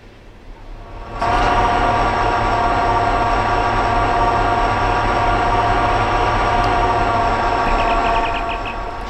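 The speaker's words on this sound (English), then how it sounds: "So that's the train right there." A train in the Run8 rail simulator game rumbles in with a sudden steady loud drone, a sustained engine hum with low throbbing layers and a faint rapid ticking near the end, no voices.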